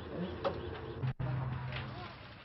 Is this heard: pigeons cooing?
yes